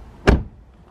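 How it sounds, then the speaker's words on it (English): A car door slams shut once, a sharp solid thud close by that fades quickly into a quiet parked-car setting at home. "gonna shut the door"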